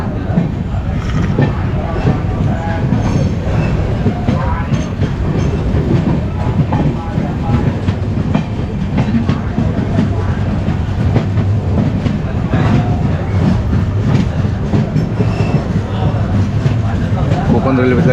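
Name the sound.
Konkan Railway passenger train running, clickety-clack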